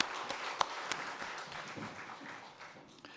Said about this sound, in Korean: 영광 박수 드립니다.